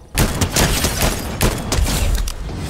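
Rapid gunfire in the Fortnite video game, a dense, loud barrage of overlapping shots and booms that runs continuously without pause.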